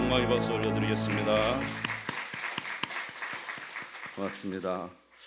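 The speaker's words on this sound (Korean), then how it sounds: "하나님께 영광의 박수 올려드리겠습니다" A congregation at a Friday prayer meeting in a church claps after a sung hymn fades; scattered, sharp handclaps sound close and fairly loud for a few seconds before dying away.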